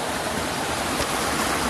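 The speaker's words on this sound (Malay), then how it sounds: "Sungai kecil." A small river stream in the Aceh jungle rushes steadily and close by, a dense broadband water hiss with no pauses, no voices and nothing else over it.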